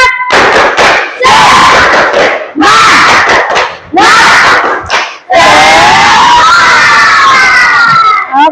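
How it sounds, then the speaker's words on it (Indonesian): A class of madrasah students stands and performs a spirit clap cheer, loud bursts of rhythmic clapping and shouted chants in several groups, ending in a long sustained group shout. "Udah siap? Tepuk semangat."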